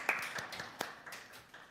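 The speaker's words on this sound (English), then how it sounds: "More clapping." A few people clapping at a planning and housing committee meeting, a brief sparse scatter of claps heard faintly in a quiet room.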